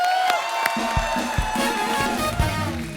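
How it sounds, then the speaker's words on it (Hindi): On The Kapil Sharma Show, a studio audience claps and cheers loudly while bright show music plays underneath, and the crowd noise holds steady throughout. "एक बार जोरदार तालियां।"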